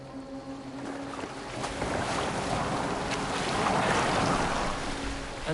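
A boat in a PS4 video game cuts steadily through rolling waves, with a constant wash of water and wind building slightly louder toward the end. No speech is heard.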